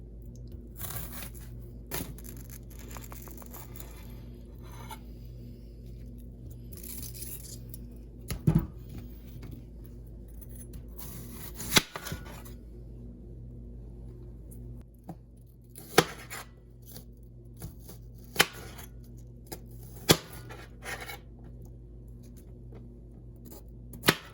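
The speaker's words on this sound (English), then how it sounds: "We're just gonna dice this onion" Knife dicing an onion on a cutting board, heard as sparse, quiet chopping taps and occasional sharper cuts spread irregularly over a low room hum, close by, with no talking.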